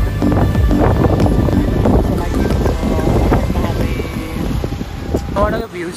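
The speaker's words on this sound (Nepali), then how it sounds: "हावाले त मारेको छ त हौ।" Strong wind buffets an outdoor spot, a loud, continuous roaring gust noise against the microphone with people talking underneath.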